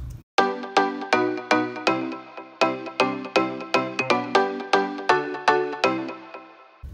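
Three layered synth sounds, violin-style plucks, a crystal pluck and a marimba-like bell with delay, play together in a steady repeating run of bright notes over a fuller low body, close and clear with no voices.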